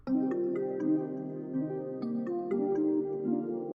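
A slow, mellow trap-style beat synth melody loops with bell-like notes over a sustained tone, moderately loud and steady, no voices.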